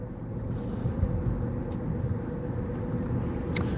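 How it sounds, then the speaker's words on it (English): Steady in-car road rumble as a car slows under light braking on the I-94 highway, a continuous low drone with faint higher hiss and no distinct brake squeal. "Now I'm going to squeeze my brakes"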